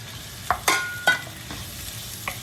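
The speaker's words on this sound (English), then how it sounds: "Okay, now that it's golden, just gonna add the tomatoes in." Tomatoes going into a pan of frying crab roe and shallots bring a few sharp clatters and spoon scrapes over a soft, steady sizzle.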